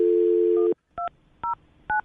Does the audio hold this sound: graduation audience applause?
no